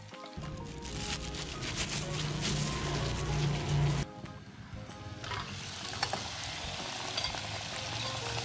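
Squid pieces fry in hot oil for homemade KFC-style fried food, a loud, steady close sizzle with stirring and bubbling that drops briefly partway through, then continues.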